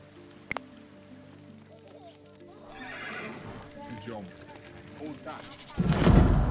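Horses neighing and whinnying in the video game Dawn of Man, with clip-clop hooves and some bleating, mixed with game sounds and someone speaking; a louder burst of noise arrives near the end.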